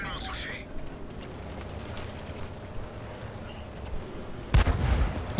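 A tank cannon fires once in the video game World of Tanks, a loud, deep boom arriving late after steady engine rumble, with someone talking over it.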